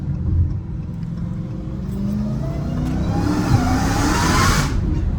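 Straight-piped 850hp Dodge Hellcat Redeye with its exhaust valves closed, giving a steady, muffled low rumble that swells slightly toward the end, close by and with no talking.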